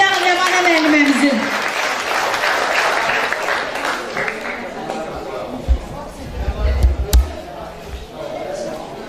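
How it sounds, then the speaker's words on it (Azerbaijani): An audience applauds a teacher at a children's music and poetry event. The broad, sustained clapping is loudest at the start and fades gradually while an announcer's voice carries over it. "Gəlin alqışlayaq Rəvanə müəlliməmizi."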